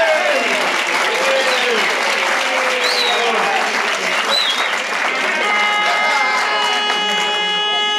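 A loud, sustained roar of audience applause fills the room for a soul music act, dense and continuous, with cheering and voices mixed in and a tonal musical line running underneath.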